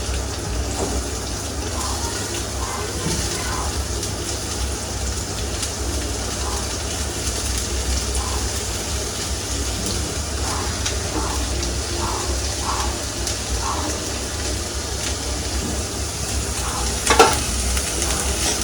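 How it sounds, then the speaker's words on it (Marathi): Onion fries in hot oil in a pan, giving a continuous dense sizzle and crackle with faint stirring scrapes throughout. A brief sharper clatter comes near the end, and no one speaks. "आता आपण कांदा घालतोय."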